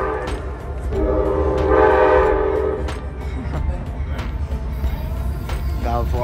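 A train horn blares loudly for about a second over the rumble of passing rail cars, with clattering and background noise continuing afterward.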